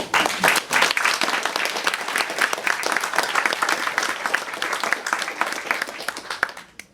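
An audience applauds at a museum event presenting a Monet exhibition in Le Havre, dense steady clapping from a nearby crowd that fades out toward the end.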